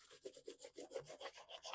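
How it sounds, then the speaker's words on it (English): Folded, glued junk-journal paper is rubbed firmly by hand, a close rhythmic swishing scrape repeating about six times a second. "give this a good rub from the other side"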